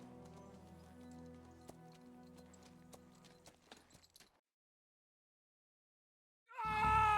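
Horse hooves clip-clop in a steady ridden rhythm in Kingdom Come: Deliverance II on PS5, fairly faint, then cut off into silence before a louder burst of game sound.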